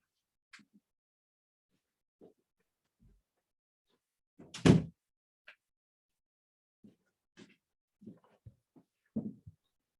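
An office or home door is shut once, a single solid thunk standing clear of near silence, followed by a few faint scattered knocks and movements.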